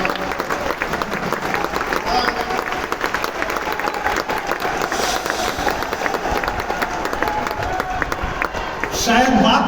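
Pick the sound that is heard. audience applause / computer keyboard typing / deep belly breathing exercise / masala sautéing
audience applause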